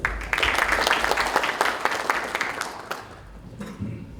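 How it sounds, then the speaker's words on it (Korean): A crowd applauding steadily at a political party training session for local government heads, with dense clapping that tapers off toward the end, leaving quieter room noise. "박수 맞아 주십시오."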